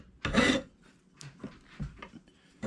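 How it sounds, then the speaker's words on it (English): Wood rasp filing the corners of a wooden claw hammer handle during a tool restoration: one loud, close rough stroke, then several fainter scraping strokes, and a final loud stroke at the end. "But we need to round these corners just a little bit. Take a wood file or a rasp."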